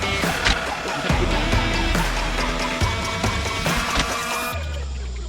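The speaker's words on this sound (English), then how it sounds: "We're going to put our screws back in." A power driver whirs in repeated short bursts, running screws back into a dash panel on a 2021 Jeep Wrangler 4xe, fairly close and loud with a steady mechanical hum.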